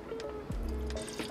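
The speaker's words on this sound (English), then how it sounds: "So the next step is pouring the colored wax into the mold." Molten colored wax trickles and pours quietly into a candle mold in short streams, with faint dribbling and small drips, close by and without voices.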